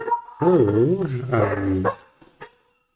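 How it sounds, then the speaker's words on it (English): A dog gives a drawn-out, wavering howl-like bark, loud and close, followed by a couple of fainter short yips, with no talk over it. "the dog, Lucia, is adamant that it is the end of the course, the end of the video"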